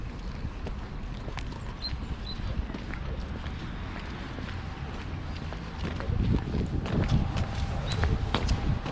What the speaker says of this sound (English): think I can hear another runner coming.